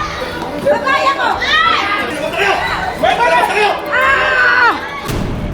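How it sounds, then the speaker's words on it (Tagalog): Two groups of protesting security guards shout at each other in a loud, chaotic exchange, many raised voices overlapping continuously with yells rising and falling, with a sharp thud near the end. "Maririnig sa video ang sigawan ng dalawang grupo."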